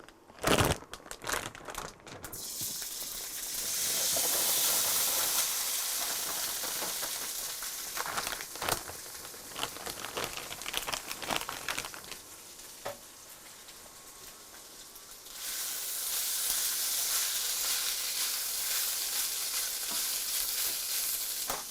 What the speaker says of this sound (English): oil so I can fry my diced potatoes